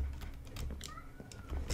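A house cat in a Minecraft game setting gives a short meow, faint and brief, amid light tapping like keyboard typing and low background noise.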